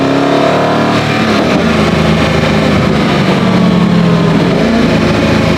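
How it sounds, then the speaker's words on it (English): Lamborghini engine roaring close and loud as it accelerates through gear shifts, rising pitch sweeps broken by brief burbles and exhaust pops between changes. "Little burbles and pops and it shifts."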